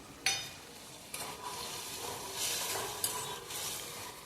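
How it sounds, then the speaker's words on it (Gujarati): Sev is stirred into a tomato curry in a pan, a soft scraping stir with a few sharper clinks over steady sizzling, with no voice. "અને બધું હલાવીને આપણે મિક્સ કરી દઈશું"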